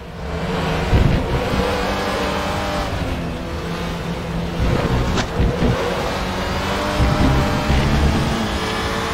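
A touring race car in a 2018 WTCR race at the Hungaroring riding over the kerb, a loud continuous engine drone with rumbling bumps and revving, close and sustained throughout.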